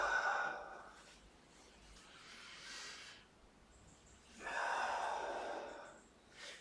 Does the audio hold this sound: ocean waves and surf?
no